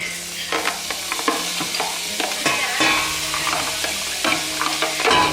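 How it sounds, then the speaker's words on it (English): Onions fry loudly in a hot pot for curried pumpkin soup, a constant crackling sizzle punctuated by scraping stirs, with no talk. "we're going to chuck our onions in and cook them until they're soft but not coloured yet"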